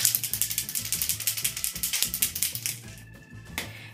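A spray can is shaken by hand with a rapid, even rattle of the mixing ball, about twenty close clicks, then a short hiss near the end.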